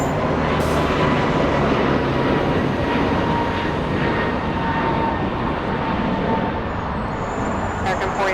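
Jet airliner engines roaring at Los Angeles International Airport, a loud steady broadband rumble and whine that stays constant throughout, close and dominant over faint background noise.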